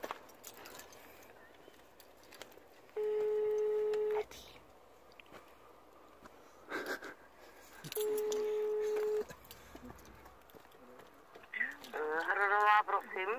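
A telephone rings with an incoming call, two separate steady electronic ring bursts of about a second each, with people talking and moving around between them and a short melodic tone near the end.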